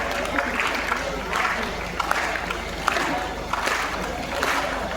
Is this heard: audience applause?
yes